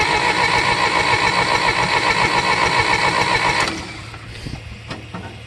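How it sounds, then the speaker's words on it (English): A John Deere engine cold-starts and runs loudly for a few seconds with a rough, chugging mid-pitched drone, then cuts out, leaving a few faint knocks and clicks. "Let's try pushing the choke in here. See if we can get her going."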